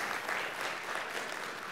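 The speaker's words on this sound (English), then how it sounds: "would you with me join with me and just give them a round of applause?" A church congregation at a Sunday morning service applauding the choir, a dense, even round of clapping that fills the whole moment.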